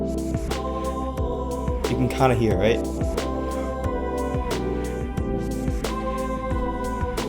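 Vocals processed through a guitar amp plugin with delay, compression and distortion, sitting over a steady beat with regular kick and snare hits and a sustained harmonic pad; a voice talks briefly over it.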